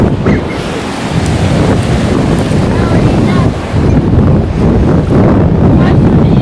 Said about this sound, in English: just being at the beach, looking at the Atlantic Ocean